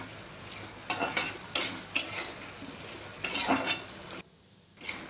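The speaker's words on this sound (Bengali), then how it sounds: "তারপরে আবার একটু ঢাকাটা খুলে নাড়াচাড়া করে নেব" Ridge gourd curry with bori being stirred in a pan, several scraping, clinking spoon strokes over a soft steady sizzle, close and moderately loud, ending with a short quiet gap before one more stroke.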